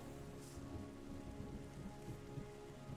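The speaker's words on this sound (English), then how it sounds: "I'm so happy we got rain to come in and fix some of this stuff." Steady rain falling in the video game Terra Nil, a soft wash of drops on surfaces with a faint low rumble beneath, continuous and quiet, no speech.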